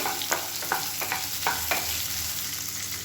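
Onion, tamarind and tomato sautéing for an idli-dosa chutney, a steady sizzle with several sharp scraping stir strokes against the pan, fairly close, no talking.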